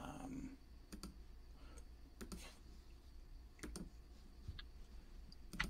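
Faint, scattered clicks of typing on a computer keyboard come over a quiet background hum in a video call.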